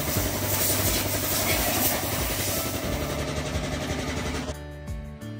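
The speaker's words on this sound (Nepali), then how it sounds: "यो चाहिँ धान काट्ने मेसिन हो।" A rice harvesting machine's engine runs steadily with a rhythmic mechanical clatter in a village farm field in South Korea, loud and close, then abruptly drops to a quieter idle near the end.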